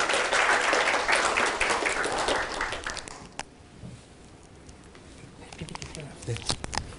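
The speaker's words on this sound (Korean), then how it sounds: "큰 박수로 환영해 주시면 감사하겠습니다." A seated audience applauds to welcome a professor to the stage at a meeting, a dense wash of clapping for about three seconds that fades to scattered claps, with some faint talk underneath.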